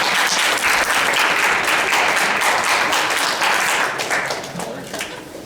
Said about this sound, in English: And let's give a round of applause for Dr. Colin.